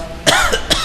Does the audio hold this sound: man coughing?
yes